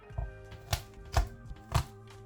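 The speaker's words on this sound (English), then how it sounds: "Now, give your garlic a crush." Four or five firm knife thumps on a kitchen board as garlic cloves are crushed with the flat of a blade, evenly spaced, close and fairly loud, with no talk.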